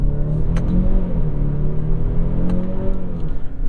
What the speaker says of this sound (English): Very, very fast shifts from this 8-speed automatic in sport mode. It really sharpens everything up nicely. Nice rev match downshifts.